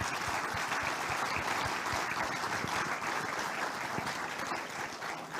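A large crowd at the 2022 Queensland Australian of the Year Awards ceremony applauds the Senior Australian nominees, a continuous even wash of clapping heard from a distance at moderate volume.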